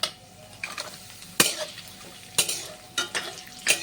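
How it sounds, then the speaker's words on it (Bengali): Cashews and raisins fry lightly in a pan, with a low sizzle under repeated sharp spatula scrapes and clinks against the metal in an uneven rhythm, close by, with no speech. "কাজু বাদামগুলোকেও হালকা ফ্রাই করে নিতে হবে"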